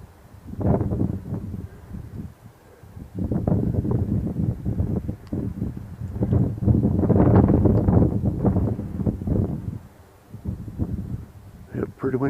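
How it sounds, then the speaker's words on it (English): Cold wind gusts outdoors and buffets the microphone in loud, uneven low rumbles that rise and fall for the whole stretch, with brief lulls between the heavier blasts. "Pretty windy and cold out here."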